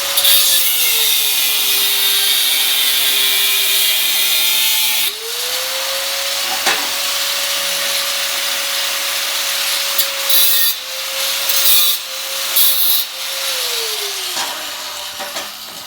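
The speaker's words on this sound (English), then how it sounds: "Cut the piece out for our pack." A power tool cuts out a repair piece for a Toyota frame with a bad body mount, giving a loud, close, steady whine whose pitch dips and recovers as the cut loads up, with a few sharp knocks.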